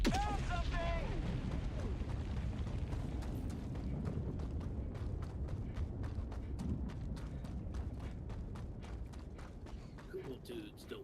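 Gunfire and explosions from the Helldivers 2 video game play as a sustained barrage of rapid, evenly spaced shots with booming blasts underneath, fairly quiet overall, with voices talking over the action at the start.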